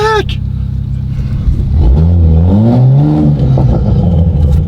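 Straight-piped widebody 2020 Toyota Supra shifted into drive, a loud, close, droning exhaust rumble that rises and wavers in pitch, with a voice speaking briefly over it.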